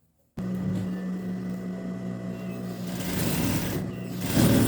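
A sewing machine stitches a child's winter pajama collar in one continuous steady whir after a brief silence, loud and close, speeding up toward the end.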